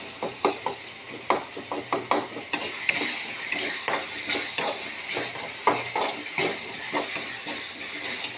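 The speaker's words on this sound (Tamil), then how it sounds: "தக்காளி நல்லா வதங்கி வச்சு பாருங்கள். இந்த மாதிரி நல்லா வதங்கி வரணும்." Tomatoes sautéing in a pan, a soft continuous sizzle broken by repeated scraping and stirring strokes of a spoon against the pan, close up and steady with no voices.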